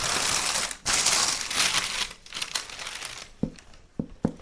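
Knocks on the base of a freshly baked no-knead bread loaf, a few sharp hollow taps near the end following rustling and crinkling of handling.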